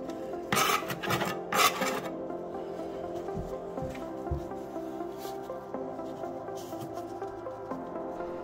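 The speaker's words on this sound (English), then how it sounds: "Using the margin trowel, I'm carving off extra concrete that didn't need to be so thick" Margin trowel scraping and carving excess concrete off an old tiled kitchen surface, two loud rasping strokes early, then quieter scraping and tapping under a steady background hum.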